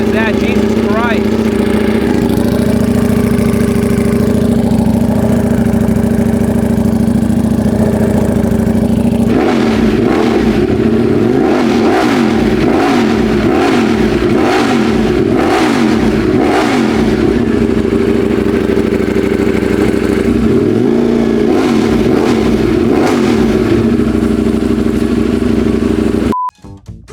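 A very loud motorcycle engine idles steadily, then revs in a series of sharp, rising bursts, settles back to idle and revs again near the end, close and dominant throughout.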